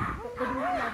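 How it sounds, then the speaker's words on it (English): A puppy at a waterside gives a short whimpering yip under a voice talking, close and brief. "lovely dog"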